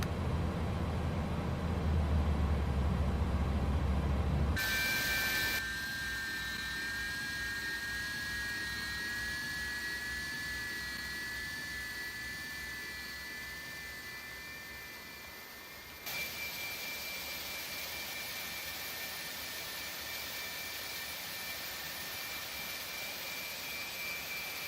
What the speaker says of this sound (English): You see the engine's now spooling.